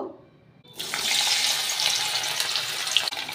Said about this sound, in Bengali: তেলটা গরম হয়ে গেছে, এবার আমি উস্তেটা ছেড়ে দেব।